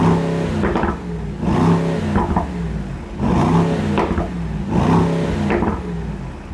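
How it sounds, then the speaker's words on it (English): A Mercedes-AMG SL 55 4Matic engine revs in three loud, close blips, each rising sharply and falling back to a steady idle between them. "And now, listen to the revs."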